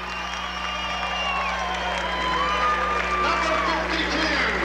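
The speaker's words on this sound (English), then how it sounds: "Very large crowd on hand here at Fortville." A very large crowd fills a high school gym in Fortville before a 1991 boys basketball game between Mount Vernon and Noblesville, giving off steady cheering, whoops and a continuous roar of voices.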